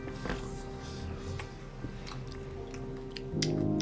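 Someone eats hot dumplings close to the microphone, with soft, wet, irregular chewing and biting sounds and a few clicks over a low background hum.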